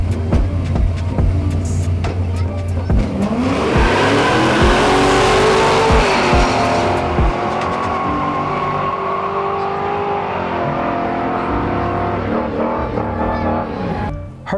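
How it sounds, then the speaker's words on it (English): A blue Corvette on a nitrous plate system drag races down a no-prep track, the engine roaring loud and close with tire squeal and rising revs, then fading away as it pulls off. "Lainey Abney, aka the Blonde Bully, in her blue Corvette."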